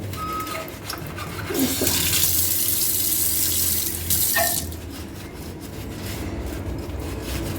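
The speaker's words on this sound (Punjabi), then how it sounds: "ਮੈਂ ਫਿਰ ਪਾਣੀ ਪਾ ਕੇ ਤੁਹਾਨੂੰ ਦਿਖਾਉਣੀ ਹੈ" Water from a tap pours into a steel sink during cleaning, a loud steady rushing splash that swells and eases with faint rubbing sounds, close by with no talking.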